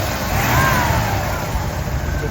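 A 1969 Hurst Olds engine revs up nearby, rising in pitch as the throttle opens, over a steady rumble.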